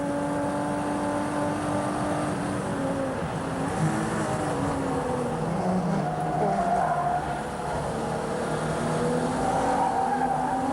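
A 1987 Renault 5 Elf Turbo racing in a UK Cup event, heard from inside: a loud, continuous engine drone with shifting pitch as it climbs and drops through the gears, brief tyre squeal, and no talking.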